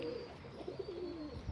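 Pigeons give soft, faint cooing calls close by, a short low burble with a little rustle at the end as they are about to be released.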